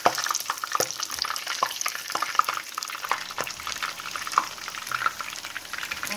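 Turkish tulumba dough rings frying in hot oil in a pan at home, giving a steady close crackling sizzle with scattered sharp pops and bubbling throughout, no voices.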